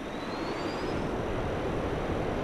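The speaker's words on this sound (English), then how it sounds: "Yes, and now we're in a jet." A Eurofighter Typhoon jet in Microsoft Flight Simulator X roars during takeoff, a loud dense engine rush with a faint rising whine, steady and close with no talking.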